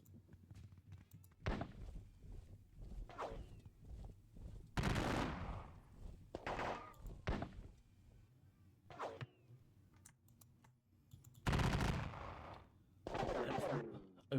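Musket volleys in a Napoleonic wargame crackle in repeated bursts of sharp, overlapping shots with quieter gaps between them, some louder and fuller than others.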